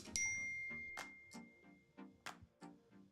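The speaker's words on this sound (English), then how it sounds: "Oh, text messages going off." Text message notification dings from a phone go off several times in an uneven series, loud and close, with quiet pauses between them and no talking.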